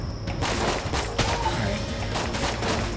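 A grenade blast in the game Enter the Gungeon bursts out amid a steady clatter of game gunfire and impacts, loud and dense throughout with no pause.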